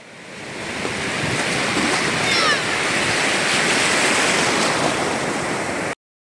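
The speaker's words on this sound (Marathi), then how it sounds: "आणि फुल लाटा आहे, फुल लाटा." Sea waves break and wash continuously on Nagaon beach, a dense roaring surf wash with wind that stays loud and steady for about six seconds before cutting off abruptly.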